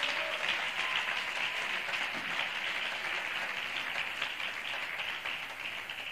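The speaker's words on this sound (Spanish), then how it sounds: "Denle un aplauso a Dios" Sustained applause from a church congregation during a sermon, a dense, steady wash of many hands clapping at moderate distance, without talk over it.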